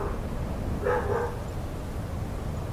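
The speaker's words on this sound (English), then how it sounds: "Pardon the dogs." Indoor dogs let out a short cluster of barks midway, moderately loud over a low background hum, with no talking.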